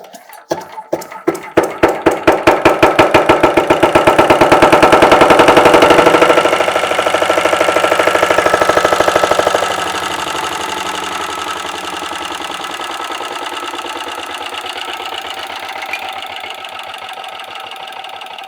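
A single-cylinder engine is hand-cranked, its rapid beats speeding up as momentum builds, then it catches once the decompression lever closes and settles into a loud, steady knocking run that eases to a lower idle.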